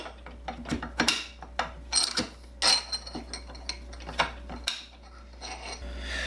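A part for a .308 AR pistol build is slid over the barrel near the threaded barrel nut, making a series of close metallic scrapes, clicks and rubbing sounds in irregular bursts over a low steady hum, with no talk.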